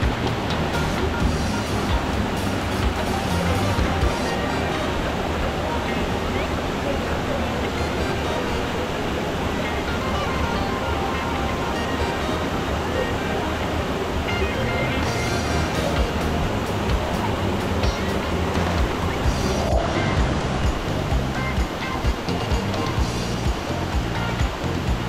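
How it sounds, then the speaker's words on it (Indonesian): Rushing water at the Curug Lawe waterfall, a constant, loud, dense roar with no pauses and no voices. "Gemericik suara air dan kicau burung memberikan nuansa tenang dan santai."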